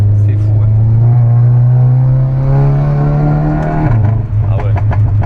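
A Volkswagen Golf 7 GTI accelerates hard through its first gears, the engine note climbing steadily before a quick shift drops the pitch and it pulls again; people talk inside the car over the engine.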